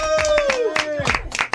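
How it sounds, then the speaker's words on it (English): Studio audience clapping hands in a quick burst of claps at a talk-show interview, close and mixed with a voice speaking over it. "Come in. Clap your hands."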